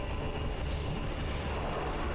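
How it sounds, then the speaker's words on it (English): Explosion in a boss fight within a video game, a dense sustained low rumble filling the whole moment at steady loudness, with no distinct onset or separate blasts. "Oh shit, it's just an explosion."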